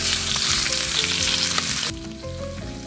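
Tuna frying in a pan just after being flipped, a loud, crackling sizzle that drops sharply partway through to a softer, steadier fry.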